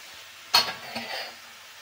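A spoon scrapes and stirs through palak mushroom curry in a pan, one sharp scraping stroke followed by a softer second pass and faint sizzle, close up and brief.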